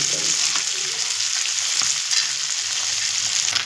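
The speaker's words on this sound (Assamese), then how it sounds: "আগতে সৰু মাছখিনি ধুনীয়াকৈ ফ্ৰাই কৰি ল'ম" Small fish fry in hot oil in a wok, a loud, steady hiss of sizzling with faint stirring movements, close and continuous.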